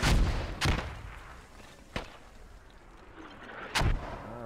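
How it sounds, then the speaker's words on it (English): US mortar rounds thump in a military video game, three separate booming impacts spaced a second or two apart, each a sharp hit with a short rumbling decay over a quiet background. "this is definitely US mortars"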